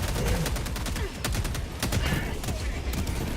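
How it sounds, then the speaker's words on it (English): Autocannon turret fire in the video game Helldivers 2 pounds out as a dense, continuous fusillade of heavy shots, loud and close, with battle noise filling the background. "There's auto cannon killing me."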